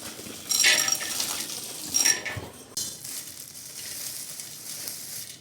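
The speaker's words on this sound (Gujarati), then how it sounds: "જો હવે આપણે બધું મિક્સ કરી નાખીએ" Crispy poha chivda ingredients are tossed and mixed in a pan, with bright metallic clinks and rattles over a dry rustling scrape, close up, a few louder bursts and no voices.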